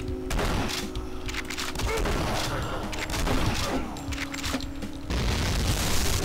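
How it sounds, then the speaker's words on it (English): Gunfire and explosions from the Doom video game, a dense, continuous barrage of shots and booms running throughout at steady loudness, with brief voice-like sounds mixed in. "And I get shot in the back by a bloody zombie."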